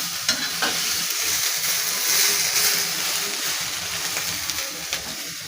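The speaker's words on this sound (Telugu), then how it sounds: "ఆయిల్ వేసుకొని వేయించాలా, మంచిగా అవుతాయి." Gorakaya (cluster beans) frying in oil in a pan, a steady close sizzle with stirring scrapes and spatters, continuous and fairly loud with no talking.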